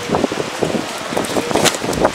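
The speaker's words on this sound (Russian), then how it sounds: "еще и ветер очень сильный" Strong, gusty wind buffets the microphone with rough broadband rushing, rising and falling in bursts, with faint rain-like patter mixed in.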